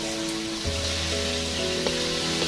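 Boiled taro stems (sulur keladi) dropped into a hot pan sizzle steadily in a continuous close frying hiss, with a low hum and faint clatter underneath and no talking.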